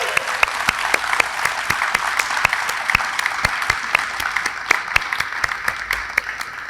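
A crowd at a court dedication event claps for hot dog sponsors, with sharp, distinct individual claps standing out from a steady, fairly close round of applause that lasts several seconds.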